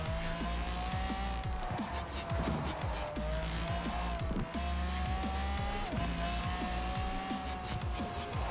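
A car in the racing game Forza Horizon 4 drives with a loud engine that climbs and drops through repeated gear changes, with tires squealing and skidding in short bursts throughout.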